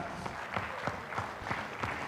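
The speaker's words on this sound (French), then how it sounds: "On peut applaudir cette superbe représentation." Audience in the Zénith d'Auvergne arena clapping after a cattle breed presentation at a livestock show evening, a brief continuous patter with a few distinct sharper claps standing out, no voices.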